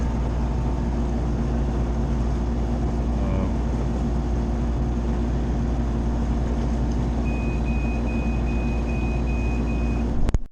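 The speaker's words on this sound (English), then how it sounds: "I got the radar alarm to go off within a quarter mile" A boat's radar proximity alarm beeps steadily in a quick, even rhythm over a loud, constant engine rumble.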